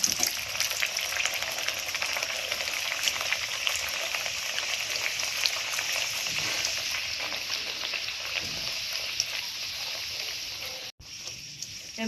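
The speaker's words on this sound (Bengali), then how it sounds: "এমনি করে ভেজে আর একটা লেচি ভেজে নেব" Pea-stuffed kochuri frying in oil in a wok, giving a steady, dense sizzle that runs close and loud through the whole stretch, with a brief break near the end.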